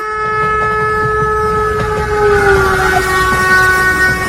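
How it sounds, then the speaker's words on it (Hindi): A train pulls in with a loud, sustained horn blast made of several steady pitches. The horn holds over a low rolling rumble and dips slightly in pitch near the end as it comes closer. Nobody talks over it. "ट्रेन आ रही है"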